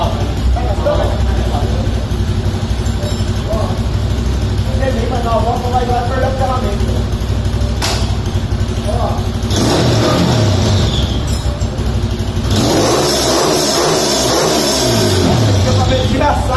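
Loud Yamaha YBR motorcycle engine fitted with a 140cc kit, revving hard and rising and falling in pitch across the clip, with people talking nearby.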